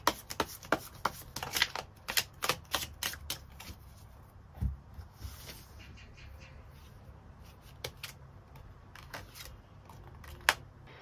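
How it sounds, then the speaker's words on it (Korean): Tarot cards are shuffled and drawn in a quick run of crisp snaps and flicks, loudest at the start, then sparser taps and slides close by with no talking. "추가 카드 뽑아보도록 하겠습니다"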